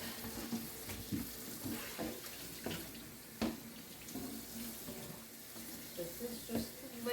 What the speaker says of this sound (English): here we are at the sink in the kitchen. I'm just going to rinse it off.